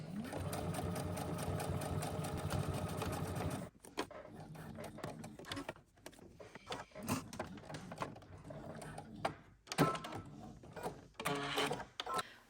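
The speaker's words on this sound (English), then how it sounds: "now we're going to head to the sewing machine and we're going to edge stitch around our bounding box" A sewing machine edge stitching around a zipper box on a garment, a fast continuous mechanical whir at first, then short stop-start bursts of stitching with pauses and handling sounds.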